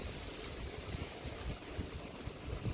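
Strong cold wind blowing across an open farm field, a loud continuous rushing roar with buffeting gusts hitting the microphone and no voices.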